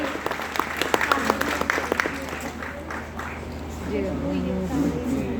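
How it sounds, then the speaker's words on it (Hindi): An audience applauds a children's performance, with loud, distinct claps building at first, then settling into steady applause mixed with crowd voices. "एक बार जोरदार तालियां इन बच्चों के लिए"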